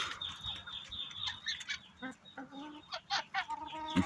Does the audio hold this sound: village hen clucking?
yes